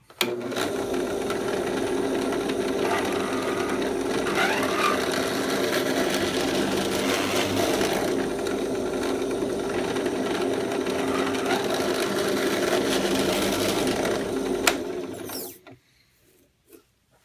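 Drill bit boring holes through a wooden slingshot, a steady close whirring drone that runs continuously for about fifteen seconds before stopping abruptly.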